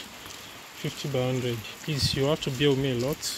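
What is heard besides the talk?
rain falling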